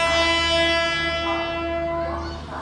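The Arunachal Express pulls into platform 1 at Anand Vihar, sounding a loud, sustained, multi-tone horn that holds steady for nearly three seconds over a low rumble.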